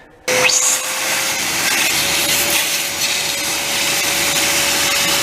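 A wet-vacuum running to draw water out of a damp, leaking area in a home, switching on abruptly and then holding a steady, loud, close-up suction roar with a constant whine.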